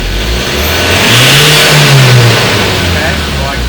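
A Ford Ranger engine, under diagnosis for a P00BD fault, revs hard at wide open throttle, a loud rising and falling roar that swells and settles near the microphone.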